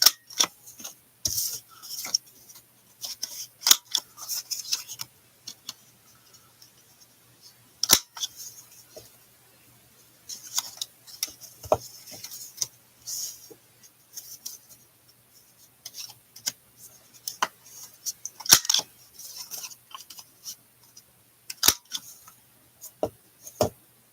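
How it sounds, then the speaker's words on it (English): Scissors trimming paper at a craft table: irregular sharp snips and crisp cutting clicks scattered across the stretch, close and fairly loud against a quiet room with brief pauses between cuts. "Like the sound of paper being trimmed, Susan?"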